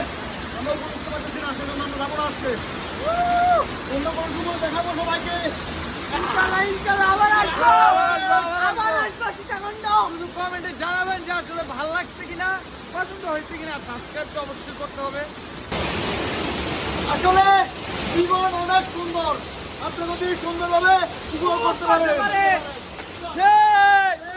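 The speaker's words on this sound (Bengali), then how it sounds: "পানির স্রোতটা বেশি" A strong current rushes through a hill stream in the hills of Bangladesh, a continuous broadband roar of water running steadily beneath people talking nearby.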